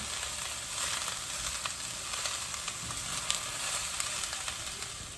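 Onions sizzle steadily in a hot pan, a constant crackling hiss with light pops and occasional stirring scrapes, no talking.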